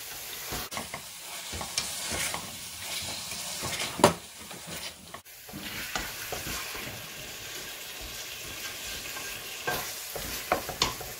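Chicken fries in a pan for a home-style Indian curry with potato and eggplant. A steady sizzle runs throughout, and stirring scrapes and a sharp clink are heard close up, with no talk.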